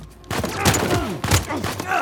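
Dense, rapid gunfire from the video game Uncharted 4: A Thief's End, loud and continuous bursts with someone speaking over the shooting.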